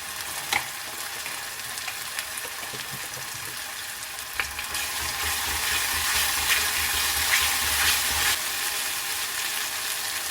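Belacan shrimp paste sautés in a pan with a steady, bright sizzle and a few faint utensil taps; the frying swells louder midway and stays close and continuous.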